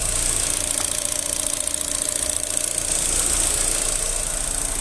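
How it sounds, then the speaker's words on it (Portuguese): A 2009 Chevrolet Astra engine running on ethanol idles steadily after a faulty injector was replaced, a continuous close mechanical hum with a light even rattle and no speech. "Olha o barulho do motor."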